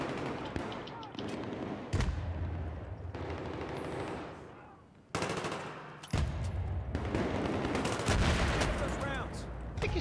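Rapid bursts of automatic gunfire and shots crackle in loud stretches with brief pauses in Battlefield 3, layered over game sounds and occasional voices.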